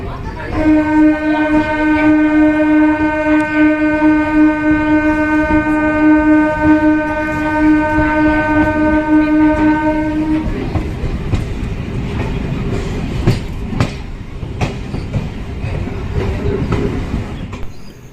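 A passenger train running from Kasimbazar to Azimganj via Murshidabad sounds a long, loud, steady horn for about ten seconds, then continues as a rumbling, rattling ride with scattered clanks.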